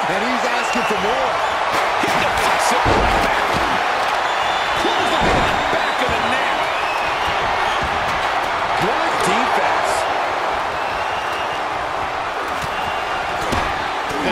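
Wrestling arena crowd in WWE 2K24 roaring continuously and loudly at a WrestleMania 31 match, with game commentary voices talking over the dense cheering and occasional thuds.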